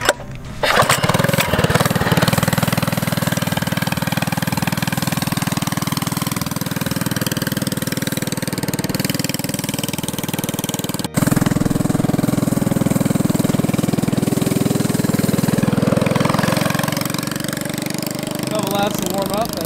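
A go-kart engine being fitted for a turbo starts up and runs loud and close, a raspy buzzing drone that rises and falls as it is revved, with a sharp click midway.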